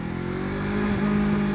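A 2023 Yamaha YZF R3 motorcycle's engine revs steadily up close, a loud continuous drone with a slight rise partway through, alone with no voices.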